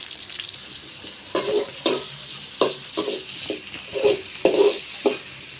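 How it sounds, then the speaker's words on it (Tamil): Tomatoes and onions sauté in a pan, a soft sizzle punctuated by repeated stirring scrapes in an irregular rhythm, close and clear with no talking. "இப்போ தக்காளி நல்லா வதக்கிக்கலாம்"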